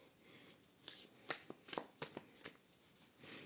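Tarot cards shuffled and handled by hand, a close, crisp series of soft riffling flicks and slaps in an irregular rhythm as one card is drawn from the deck.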